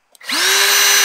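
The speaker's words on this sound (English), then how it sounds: "All right, so we are done with the drill." A power drill bores into a 5-gallon plastic bucket for a compost project, revving up quickly to a steady, loud, continuous whine, close by with no speech.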